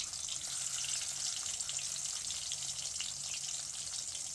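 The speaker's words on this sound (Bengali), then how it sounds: "তেল গরম হয়ে গেছে, এখন আমরা বেগুন দিয়ে দেব। বেগুন দিলেই এই যে ভাজি শুরু হয়ে গেছে।" Eggplant slices fry in hot oil, giving a steady, dense sizzle that stays loud and even from start to finish, with no voices.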